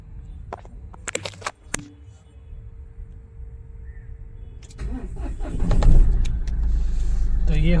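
Mahindra Bolero engine cranked with its self-starter, a few clicks and dashboard chimes giving way to the engine catching and settling into a steady idle inside the cabin.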